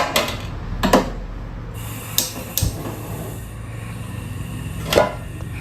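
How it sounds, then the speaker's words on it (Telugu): Gas stove being lit in a home kitchen: several sharp clicking ignition bursts, spaced irregularly, close and fairly loud over quiet background hiss. "మనం ముందుగా స్టవ్ వెలిగించుకుందాం."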